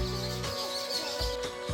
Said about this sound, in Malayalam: ആകെ കേൾക്കുന്നത് കുറച്ച് കിളികളുടെ ശബ്ദം കേൾക്കാം